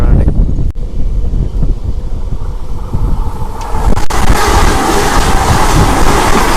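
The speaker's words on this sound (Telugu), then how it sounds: "మన విజయవాడ చెన్నై సెంట్రల్ వందే భారత్ వస్తుంది" A Vijayawada–Chennai Central Vande Bharat train rushes past close by, a loud, steady roar and wind rumble that swells into a harsher broadband rush about halfway through.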